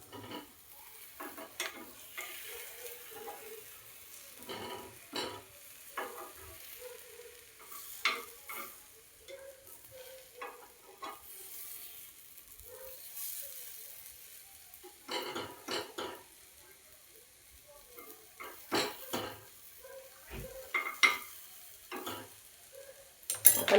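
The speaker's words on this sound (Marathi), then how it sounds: "आणि पुन्हा आपण तूप टाकून हे भाजून घेणार आहोत" Banana and wheat-flour appe roasting in ghee in an appe pan, with faint, intermittent sizzling and scattered light clinks and scrapes of a utensil turning them, quiet and close.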